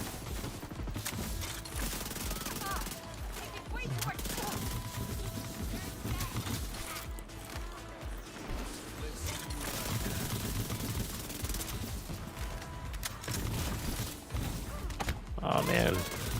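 Rapid SMG fire from a 45-round magazine in The Division 2 PvE combat, rattling in sustained bursts through most of the stretch, with someone talking over the shooting.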